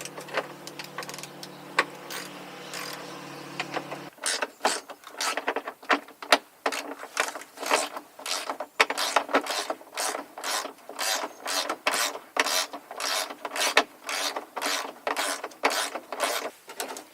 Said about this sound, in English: just taking these bolts off, and it'll work just as well, I guess.